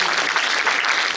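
An audience of women at an awards event claps together in a dense, steady burst of applause with no talk.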